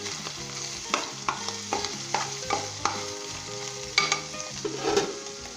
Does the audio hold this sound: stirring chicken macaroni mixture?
yes